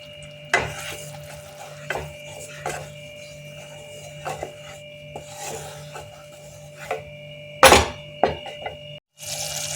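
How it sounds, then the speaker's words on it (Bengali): A spatula scrapes and rubs through cashew, poppy seed and green chili paste in a pan for a creamy paneer dish, irregular strokes over a faint low hum, with one loud clatter near the end. "কাজু, পোস্ত, কাঁচা লঙ্কার পেস্টটা আমি এবার এর মধ্যে দিয়ে দিচ্ছি। এটা একটু কষিয়ে নেব।"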